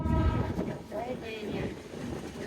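The Madhumati Express passenger train near Kamalapur, a low rumble with faint rail clatter and a brief tonal whine, moderately quiet, with a voice talking over it.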